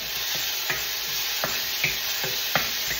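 Garlic and onions sizzle steadily in a hot pan, a continuous bright frying hiss broken by a few soft stirring scrapes, with no one speaking.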